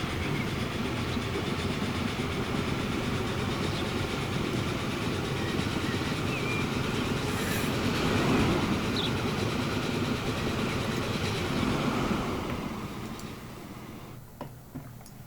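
A train running in the Transport Fever simulation game, a steady rolling rumble with faint rhythmic clicking of wheels over track, continuous and fairly loud, easing off slightly near the end without any speech.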